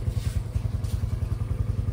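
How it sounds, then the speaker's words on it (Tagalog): A motorcycle idling outside on a rainy day, a close, low rhythmic engine putter thumping steadily for a couple of seconds, no voices. "Ayun ang aking motor."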